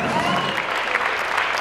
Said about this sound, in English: Give a nice round of applause to these seniors.